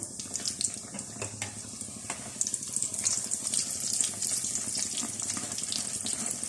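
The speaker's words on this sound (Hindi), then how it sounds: "हमारी कुलचा पूरी आहिस्ता आहिस्ता ये फ्राई होना शुरू हो गई है।" Kulcha puri fries slowly in hot oil over a low flame, a continuous close crackle and sizzle with dense, irregular popping throughout.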